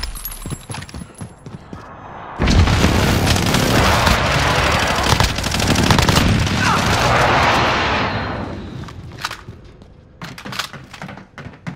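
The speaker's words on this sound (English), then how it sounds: "Be advised, friendly precision airstrike inbound." A friendly precision airstrike in the video game Warzone, with a loud, sustained roaring barrage of explosions and rumbling that swells for several seconds, then fades into scattered gunfire, with faint voices around it.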